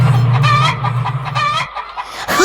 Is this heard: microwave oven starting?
no